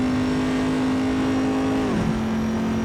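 Corvette C7R GTE race car in Assetto Corsa on the Nürburgring, its engine holding a loud, steady high-rpm drone on a long straight before a quick dip in pitch at a gear change, then steadying again.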